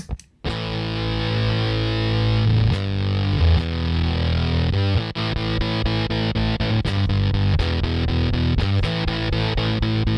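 An electric guitar plays chords through a Mammoth fuzz distortion pedal, loud and saturated, with sustained notes and brief choppy breaks.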